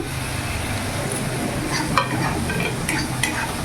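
Spice masala with chopped tomato and cumin powder sizzles steadily in a pan as it is sautéed for a cauliflower dish, a loud, continuous frying hiss with a few soft scrapes of the spoon, no voices.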